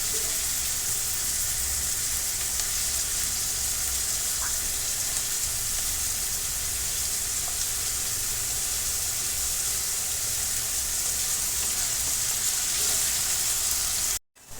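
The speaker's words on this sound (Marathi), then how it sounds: "कांदा आपण लालसर होईपर्यंत भाजून घेणार आहोत." Onion pieces fry steadily in hot oil, a continuous soft sizzle and crackle held at an even level throughout, close by and unaccompanied by voices, before cutting off abruptly at the end.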